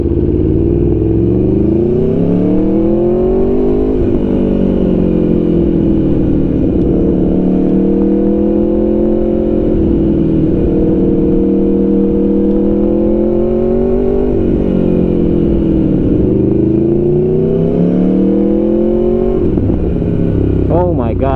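Aprilia Tuono V4 Factory 1100cc motorcycle underway, its V4 engine revving up and easing off in repeated smooth sweeps, loud and close, with steady wind rush throughout.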